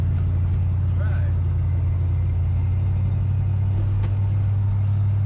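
A Dodge 440 truck, rare and on its first drive in over ten years, rumbles with a steady, loud low engine drone throughout as it drives off, with faint faint voices in the cab.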